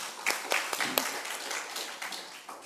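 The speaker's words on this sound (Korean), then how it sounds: "박수 한번 치세요. 박수." A church congregation claps briefly at a Sunday worship service in Seoul, a short scattered burst of applause that stays moderate and soon thins out.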